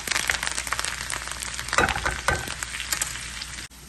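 Curry leaves drop into hot oil with dried chillies and shallots for a mango curry, giving a loud crackling sizzle that bursts sharply as they hit and settles into steady frying before cutting off abruptly.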